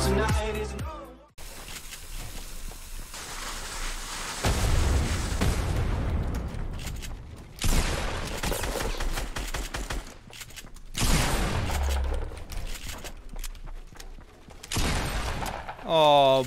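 Repeated heavy explosion blasts from dynamite in the Fortnite video game, several loud booming bursts spaced across the stretch, each followed by rumbling decay, with game sounds and voices in between.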